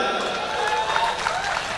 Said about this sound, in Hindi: एक बार अच्छा लगा तो जोरदार तालियां बजा दें